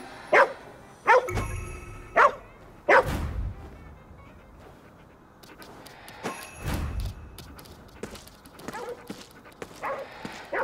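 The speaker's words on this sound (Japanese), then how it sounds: "この犬を守れ" Dog barking in the video game Ghostwire Tokyo, a few sharp barks at a steady rhythm opening the scene, then quieter game sounds with brief voices and scattered noises.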